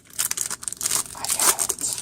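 Foil wrapper of a 1991 Action Packed All Madden Team football card pack torn open, a close, crinkly ripping and crumpling that comes in several bursts over about two seconds, with no talk.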